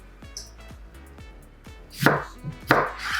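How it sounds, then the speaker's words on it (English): A sharp kitchen knife slices through potatoes for fries, giving two crisp chopping thuds on a board near the end after a few soft faint taps, close and loud with no speech. "We're going to cut the potatoes like so."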